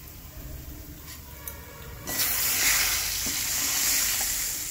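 Spice paste and turmeric hit hot oil for a vegetarian cabbage curry, a quiet hiss swelling into a loud, steady, close sizzle that carries on with faint stirring and no talk.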